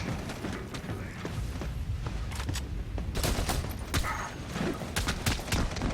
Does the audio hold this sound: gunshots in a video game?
yes